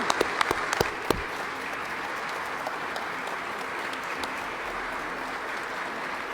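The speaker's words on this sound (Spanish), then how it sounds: "la Asamblea Nacional aplaude la elección de estos magistrados al Poder Electoral nicaragüense" Members of Nicaragua's National Assembly applaud the election of electoral magistrates, a steady, dense wash of clapping from a large room that continues for several seconds, with a few sharp nearby claps at the start.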